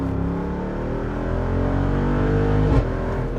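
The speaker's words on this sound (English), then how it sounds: "with the valves open, this thing is properly loud" A Jeep Wrangler 392 V8 engine revs loudly through its quad-tip exhaust with valves open, up close, a deep rumble rising in pitch before a sharp burst near the end.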